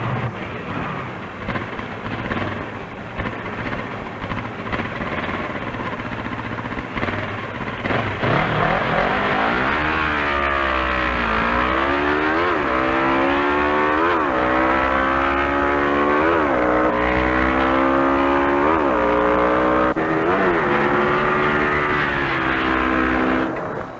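A small-displacement Suzuki GS 450 drag bike engine revs loud and close. Its pitch climbs and drops again and again as throttle and clutch are worked, after a rougher, steadier rumble in the first few seconds.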